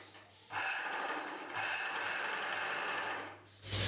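A motorized tailoring sewing machine run by foot pedal whirs in a loud steady burst, briefly easing then resuming, stopping near the end before restarting, with no talk over it.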